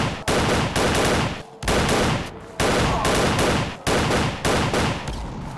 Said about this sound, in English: They're shooting at me and nothing is going on.